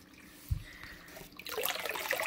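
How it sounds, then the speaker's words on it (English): Water runs into a pool pond, first a quiet trickle with a brief thump, then swelling into a louder, steady rushing splash for the final second, close by and without speech. "The water's still going."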